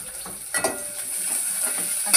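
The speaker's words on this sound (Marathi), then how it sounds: "कांदा टाकणार आहोत" Onion sizzles in hot oil with curry leaves, a soft steady frying hiss broken by a few scraping stirs of a spoon in the pan, fairly close and without talk.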